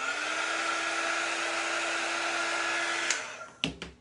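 A hair dryer blows steadily on chalk paste laid down before gold leaf, a loud constant whir that cuts off abruptly near the end, followed by a couple of soft clunks as it is set down.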